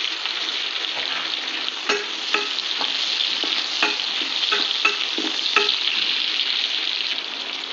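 Onion, tomato and eggplant fry in oil over low heat, giving a steady bright sizzle punctuated by several sharp scrapes and clicks of a spatula stirring the pan; no talking.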